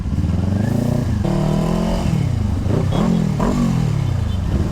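A motorcycle engine revs hard in traffic, close and loud, with repeated throttle blips that rise and fall in pitch over a constant idle rumble.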